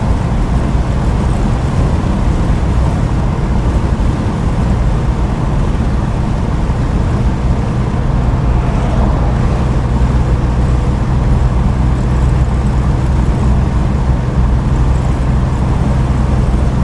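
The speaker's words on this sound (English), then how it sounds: "Hopefully the wind noise isn't too bad." Steady wind roar and road rumble fill the cabin of a 1967 Ford Mustang convertible cruising with the top down, a loud, continuous low buffeting with no pauses and no voices.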